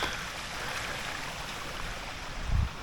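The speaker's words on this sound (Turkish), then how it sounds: "Küçük bir dere akıyor hemen arkada." A small stream flows just behind a campsite with tables and a campfire spot, giving a steady, even wash of water noise with a brief low thump near the end and no talk.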